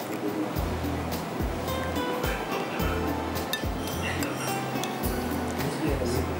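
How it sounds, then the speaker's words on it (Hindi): Yogurt whisked in a bowl as a marinade for mutton dum gosht, with rhythmic thudding strokes and light clinks of the utensil against the bowl under a voice talking throughout. "दही को हम अच्छी तरह से फेंट लेते हैं"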